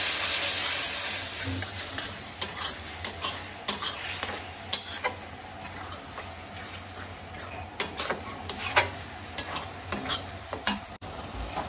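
A spoon stirs a gravy of soy sauce, chili sauce, tomato sauce and vinegar for chilli chicken, giving soft scraping swirls and scattered light clicks against the pan, close and alone with no talking.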